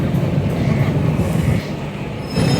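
A train rolls very slowly into a station near Howrah, giving off a steady, close low rumble of wheels and carriages that dips briefly near the end.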